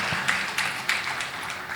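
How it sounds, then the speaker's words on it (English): An audience at a panel session applauds, a soft, steady patter of clapping with a few sharper individual claps, heard at a moderate distance. "Please, round of applause for Mr. Egbert Momo."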